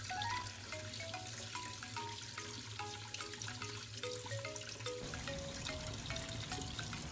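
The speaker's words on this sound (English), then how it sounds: "Wash them until you're sure that there's no foul left on the shrimp, and then drain all the water out." Raw shrimp being rinsed in water and drained for a Thai spicy shrimp salad, a steady close splashing and trickling wash with faint clinks over a low hum, alone without voices.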